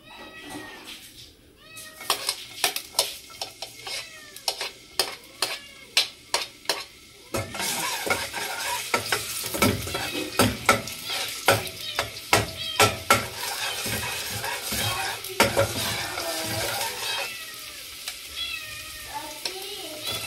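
Ginger dropped into hot oil for a Filipino family lunch, a bright crackling sizzle with repeated sharp scrapes and clinks of the pan, joined briefly by a cat's meows.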